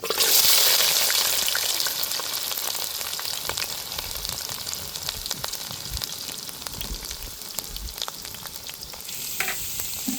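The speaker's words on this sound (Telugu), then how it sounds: "ఆయిల్ బాగా కాలిపోయింది ఇప్పుడైతే ఆనియన్స్ వేసి వేయించుకున్నాం" Onions frying in hot oil for mutton biryani, a loud, dense, continuous hissing sizzle close by, slightly stronger at the start and holding steady, with faint stirring scrapes and no speech.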